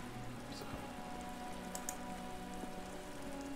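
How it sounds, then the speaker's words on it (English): Steady rain patters continuously in the video game Disco Elysium, an even wash of drops with a low ambient drone underneath and no voices. "We walk through the rain."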